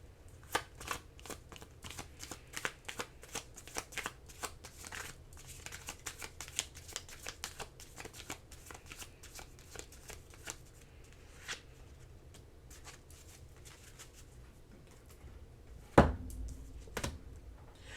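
Tarot cards are shuffled by hand in a quiet room, a long run of quick, soft riffling flicks and taps, fairly close, ending with a single louder thump as the deck is set down.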